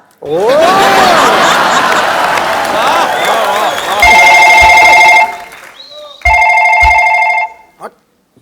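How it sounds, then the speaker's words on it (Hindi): An electronic phone rings twice in loud, steady trilling bursts, cutting in after a stretch of lively talk and laughter. "भाभी का जो फोन बज रहा है वो भी तो उठाना चाहिए।"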